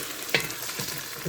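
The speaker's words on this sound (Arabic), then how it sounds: "هوني القرنيط نتاعي تقلى، تسمع في الترشيق، تسمع فيه يترشق." Cauliflower fries with onion in a pan, a close, steady sizzle with a few short scraping stirs.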